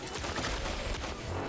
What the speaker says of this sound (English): Deadpool is going to shoot everything down.